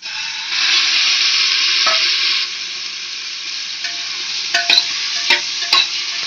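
Chicken frying in melted butter in a pan, with a loud hiss that flares as the meat goes in, then settles into a steady sizzle with a few sharp spatula clicks toward the end, with no speech.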